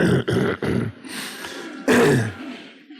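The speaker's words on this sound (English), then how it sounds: "You can clear your throat." A person clears their throat several times in quick, rough bursts, followed by a softer pause and then one more forceful throat clearing, close and loud in a quiet meditation class room.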